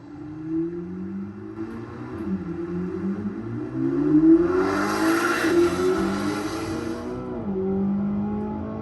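A 2025 Chevrolet C8 Corvette ZR1 with a twin-turbo 5.5-liter V8 accelerates hard, its engine note climbing steadily in pitch through a long pull with a brief dip at a gear change, loud and close over road and wind roar.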